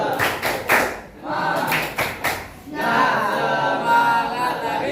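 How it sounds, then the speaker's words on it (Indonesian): Classroom 'tepuk semangat' spirit clapping for a student group in a ninth-grade maths lesson, a run of rhythmic group claps with short pauses between bursts, then a livelier stretch of chatter and claps under voices. "beri tepuk semangat dulu untuk kelompok Cila"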